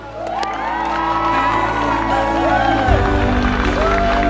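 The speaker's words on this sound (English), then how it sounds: "I present to you, for your recognition and applause, Mr. and Mrs. Dutro." Wedding guests erupt in cheers, whoops and applause for a newly married couple, a loud, sustained crowd roar full of high shouts that carries on throughout.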